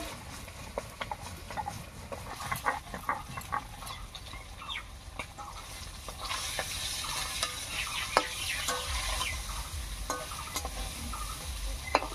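Fish tail pieces sizzle in hot oil in a pan while being stirred, with a continuous frying hiss broken by frequent scraping and clicking strokes of the spatula.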